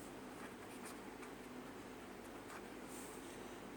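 Steady, faint writing on a board runs under a constant hum of room noise, with light scratchy strokes blending into the background and no clear pauses.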